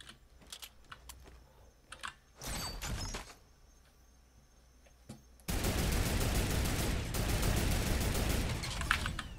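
Turret gunfire in the video game Fortnite starts with scattered clicks and a short burst, then becomes a loud, sustained rapid-fire stream for the last few seconds, with no talking.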